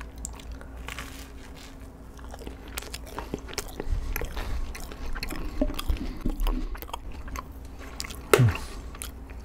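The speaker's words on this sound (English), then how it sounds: "I'm gonna take a bite of the Texas toast first" Someone bites into freshly cooked Texas toast served with garlic chicken pasta, with a close, quiet crunch and chewing under soft background noise, ending in a sharper bite near the end.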